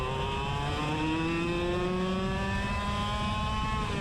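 A racing go-kart engine bogs through slippery corners on a new track during a main event race, with a close, continuous droning buzz whose pitch climbs slowly and unevenly.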